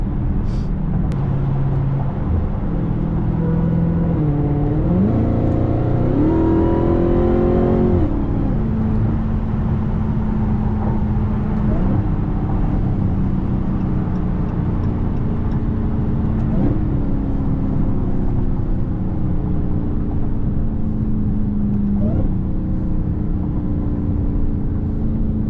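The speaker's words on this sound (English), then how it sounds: "This car is so fast." Dodge Challenger Hellcat Redeye Jailbreak accelerating hard, heard from inside the cabin: a loud, continuous engine roar with rising pitch sweeps as it climbs through the gears and a supercharger whine.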